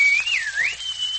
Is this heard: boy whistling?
yes